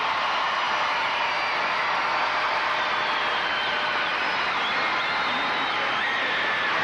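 A large arena audience at the 2000 U.S. Olympic Gymnastics Trials men's all-around final applauds the athletes, a steady, dense roar of clapping and crowd noise that holds evenly throughout.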